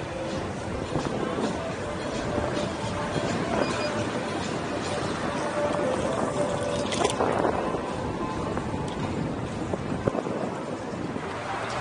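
A CITYRIDER electric scooter being ridden outdoors, a steady rolling hiss of tyres and rushing wind noise with a faint motor whine, continuous and close, with a voice talking over it.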